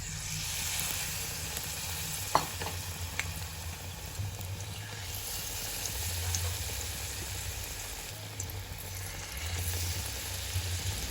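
Battered tempe gembus fries in hot oil with a steady, soft sizzle and crackle, close up, with a few faint clinks of utensils and no talking.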